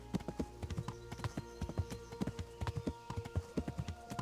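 Horse hooves clip-clop in a quick, steady rhythm in the video game Kingdom Come: Deliverance, close and clear, with a faint tonal background hum.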